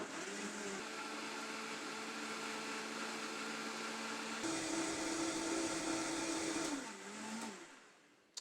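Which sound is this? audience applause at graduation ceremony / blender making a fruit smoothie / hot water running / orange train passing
blender making a fruit smoothie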